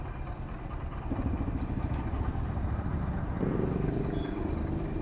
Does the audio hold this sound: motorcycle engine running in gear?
yes